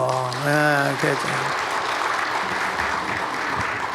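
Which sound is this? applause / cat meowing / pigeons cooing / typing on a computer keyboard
applause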